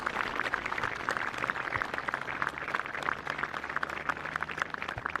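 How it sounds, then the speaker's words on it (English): Steady, dense applause from a school football tournament crowd honoring the referees, heard at a distance and fairly faint, with the clapping continuing evenly throughout. "let's have a huge round of applause for the referees"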